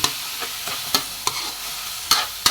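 Igado sizzles in a frying pan while a utensil scrapes and stirs it in irregular clacks over a steady hiss.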